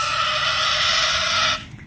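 A large pig on a piggery farm lets out a loud, harsh, sustained squeal lasting about a second and a half, then breaks off abruptly into quieter background noise.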